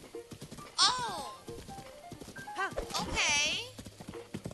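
Donkey hooves clip-clopping in Zelda: Breath of the Wild, a light rhythmic patter of steps beneath game music and excited talk from players.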